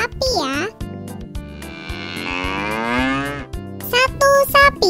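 A cow moos loudly in a long, drawn-out low call, with short bright synthetic tones before and after it.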